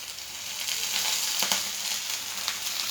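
Food fries in a small amount of oil in a pan, giving a steady, close hiss and sizzle with a few faint crackles and scraping touches.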